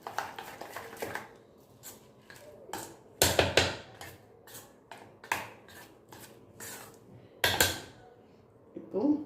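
Rava idli bonda batter mixed in a bowl, a series of irregular scraping and tapping knocks of a spoon against the bowl, close and fairly quiet, with some talk between strokes.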